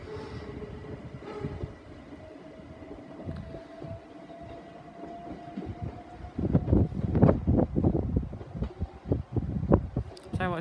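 An electric train rumbles past at Dover Priory station with a steady hum, then sharp crackling bursts of electrical sparking from the conductor rail break out and grow louder toward the end.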